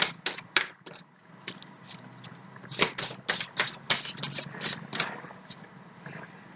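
A tarot card is drawn from a pile and laid on a table. Quick rustling card flicks and slaps come close and crisp, in irregular bursts over a quiet background.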